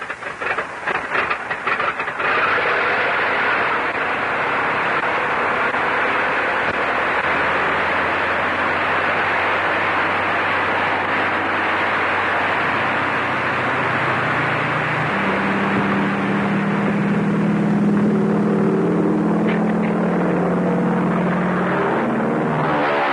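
A propeller airplane engine coughs through a few sputtering firings, then catches and holds a loud, steady roar. The pitch climbs as it revs up, with no voices over it.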